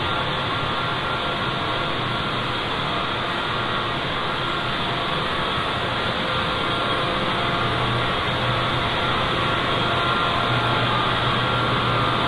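Produce washing machine running at a farm processing line, a loud steady mechanical whir and rumble with constant broadband noise throughout, no talk.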